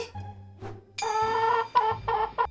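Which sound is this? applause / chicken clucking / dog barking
chicken clucking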